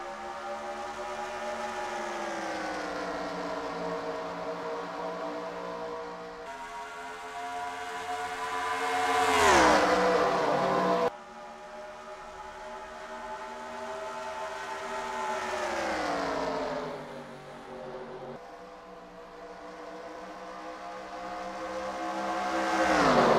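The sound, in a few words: race cars at the green flag start, Darlington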